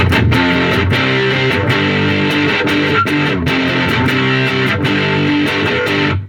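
A handmade, modded Russian-style muff fuzz pedal played without caps, with dense, dark, saturated guitar chords strummed rhythmically and loud, sustaining for several seconds before cutting off.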